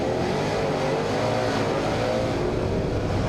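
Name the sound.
speedway race cars racing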